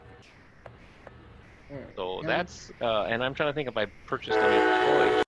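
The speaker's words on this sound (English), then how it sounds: "That's a train." After people talk, a passing train's horn blares loud and close for about a second near the end.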